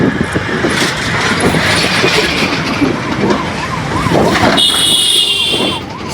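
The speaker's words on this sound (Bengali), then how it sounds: "গাড়িগুলো দেখো" Loud, continuous roar of car traffic passing over a bridge, with a wavering siren-like tone in the middle and a brief high horn blast near the end.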